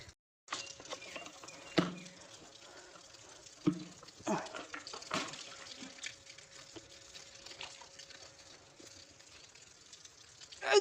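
Water is splashed over a dusty surface as it is washed and wiped outdoors in a village, with soft running-water patter and a few sharp knocks and scrubbing bursts throughout.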